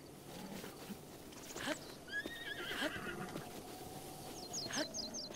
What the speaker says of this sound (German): Ich wollte jetzt mal erst das Pferd fangen